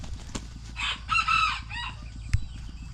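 A bantam rooster of the prized Benjarong colour crows once in a clear multi-part call near the middle, with faint clucking and a low steady rhythmic hum of background machinery throughout.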